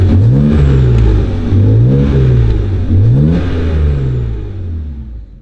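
A BMW E92 335i's N54 engine, freshly swapped, revs up and down repeatedly nearby, rising and falling pitch, then settles and fades toward the end.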